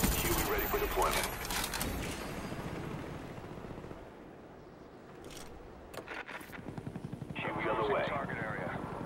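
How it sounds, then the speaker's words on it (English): A Huey helicopter in a multiplayer shooter game drones with rotor thumps beneath announcer voice lines and bursts of distant gunfire, the chopping loudest at the start and again near the end. "Huey ready for deployment."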